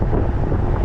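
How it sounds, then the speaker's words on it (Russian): Wind buffets a microphone outdoors on a warm, breezy day on a trail in Crimea in May, making a dense, loud low rumble that continues throughout with no speech. "Ветрено, но тепло."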